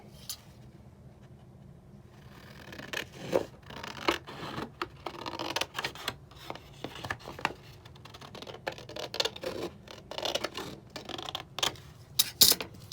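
Cardstock being cut off in sections for a small handmade paper folio, heard as soft, close scratchy snips and rubbing scrapes in irregular bursts against a quiet background.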